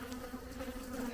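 Honeybees drone in a steady, dense buzz from an overcrowded hive, close and continuous with no voices.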